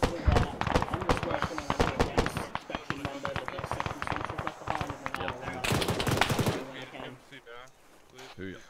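Gunfire in ArmA 3 cracks in quick, irregular volleys and automatic bursts, mid-distance and steady, mixed under radio chatter from a player.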